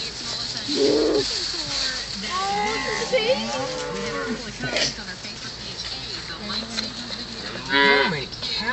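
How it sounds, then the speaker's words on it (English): A herd of cattle moos repeatedly out in a field, several drawn-out calls from different animals at varying distances, with people talking quietly in between and a bird cooing faintly in the background. "How many cows are around here?"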